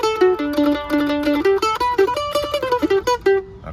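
Mandolin picking the Lone Ranger tune with a shuffle rhythm, a quick run of bright plucked notes with steady, bouncing attacks, played close and alone without any voice.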